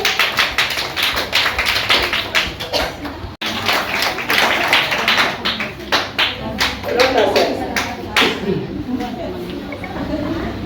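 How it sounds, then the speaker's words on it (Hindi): An audience of children and adults claps in welcome at a cleanliness fortnight awards event, rhythmic, loud, close clapping continuing for about ten seconds with voices in the background. "इनके लिए भी जोरदार तालियों से स्वागत कीजिए"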